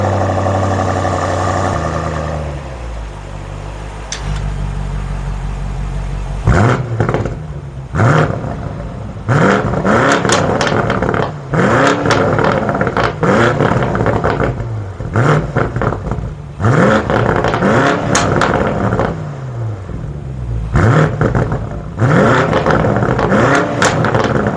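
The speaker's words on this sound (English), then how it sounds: "We're going to give it a bit of a rev now and you guys can hear what this car sounds like" A BMW M850i engine idles, then revs repeatedly, rising and falling in loud, close bursts, each ending in a quick drop back to idle.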